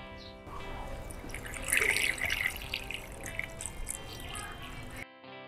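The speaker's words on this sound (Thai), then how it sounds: "ตัวนี้เติมไป5ลิตรแล้วครับก็เต็มแล้วครับ" Coolant being poured into a car radiator, a steady liquid trickle and splashing that runs for about five seconds with no one talking, then cuts off.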